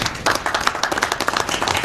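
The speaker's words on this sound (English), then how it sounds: "So I'd like to give them a round of applause." An audience at a school district board meeting claps steadily for a short moment, a dense patter of many hands that neither swells nor fades, with no voices over it.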